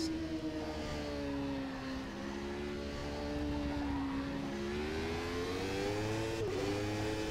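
McLaren F1 race car in the rFactor 2 racing sim, a steady engine note that rises and falls slightly with throttle and gear changes, continuous and prominent with no talking.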